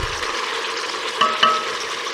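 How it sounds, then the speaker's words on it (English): Pork carnitas frying in hot oil on high heat, a close, steady crackling sizzle with a couple of sharper pops and stirring scrapes, no talk. "we've been cooking the meat in the hot oil for about 5 minutes"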